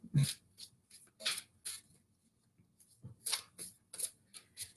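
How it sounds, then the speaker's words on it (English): An Angel Tarot card deck is shuffled by hand in a series of soft, papery riffling bursts with short pauses between them, close and fairly quiet, with no talking. "right now I'm shuffling the Angel Tarot deck"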